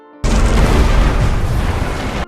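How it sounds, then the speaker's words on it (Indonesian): A spaceship is shot down and blows up in a sci-fi film scene set in 2154. One loud, close, roaring blast sustains for about two seconds before cutting off. "Sebelum meninggalkan bumi, pesawatnya ditembak oleh Max dan timnya"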